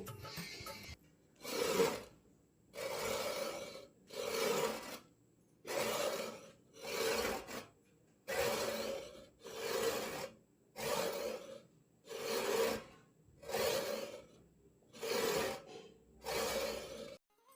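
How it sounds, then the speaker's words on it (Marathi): A hand saw cuts through wood in about thirteen regular back-and-forth rasping strokes, each a distinct close burst separated by short pauses, with no talking. "करवत हे हत्यार लाकूड कापण्यासाठी वापर केला जातो"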